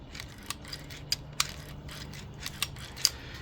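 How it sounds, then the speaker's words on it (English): The slide of a Colt Series 70 Gold Cup 1911 pistol is worked back and forth, giving a series of faint, close metallic clicks and smooth sliding scrapes over quiet room noise, with no talking. "when you pull this slide back, it absolutely feels like it's on ball bearings"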